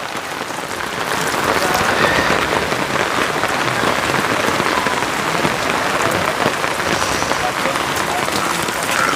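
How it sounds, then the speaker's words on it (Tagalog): Heavy first rain pours down hard and steady, a dense close hiss of drops on surfaces that swells in the first seconds and then holds loud and even. "Ganyan lang naman ang ulan mga kabayan."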